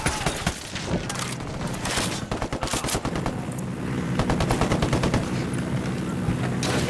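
Rapid bursts of automatic gunfire in the shooter game Ghost Recon Wildlands during a firefight with cartel forces, dense overlapping shots rattling steadily throughout, close and loud with no talking.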